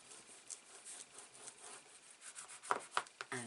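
Paper being smoothed down by hand over an album cover, leaving soft, quiet rubbing strokes that build to a few sharper scuffs near the end, with no talking.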